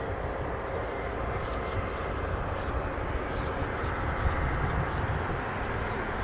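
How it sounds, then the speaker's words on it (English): A KC-146 Pegasus (C-146) aircraft flies near a Royal Air Force airfield. A steady, broad engine roar holds throughout at moderate distance, with no talk. "Looks like we've got a KC-146 Pegasus on its way."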